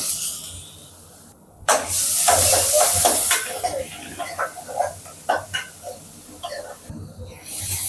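Onions and fennel seeds frying in hot oil for keema biryani give a loud, broad hiss that starts suddenly, then crackles and spatters in uneven bursts, with short stirring noises and a brief quiet gap near the end.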